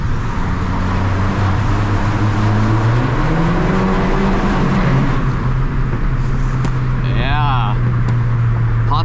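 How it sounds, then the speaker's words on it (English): A 2015 Fiat 500 Abarth accelerates and drives through an underpass, with a loud, droning exhaust note that rises and falls as it echoes off the walls and fills the clip throughout. "Pops and gurgles."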